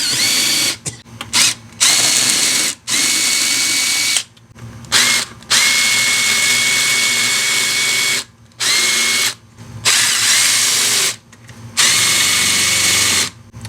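Power tool spinning out the 8 mm valve cover bolts on a 2008 Ford F150 with a 5.4 engine, heard as loud, close, sustained drill whirring in several long bursts with brief pauses between them.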